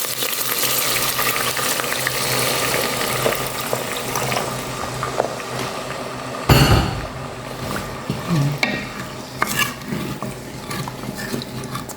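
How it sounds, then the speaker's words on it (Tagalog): Water being poured into a pot of beans on the stove, a steady rushing splash with stirring and clinking of a utensil against the pot, close and continuous with a brief louder clatter midway. "Ngayon, lagyan natin siya ng tubig."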